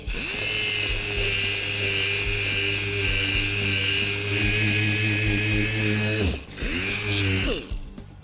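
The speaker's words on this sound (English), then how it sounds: "The next step's gonna be we're gonna hit it with 80 grit, and we're gonna hit the area a little bit bigger than the actual hole" A power tool whines loud and steady nearby as it sands a structural plastic repair area with 80-grit abrasive. The tone dips briefly near the end as the tool slows, then it runs down and stops.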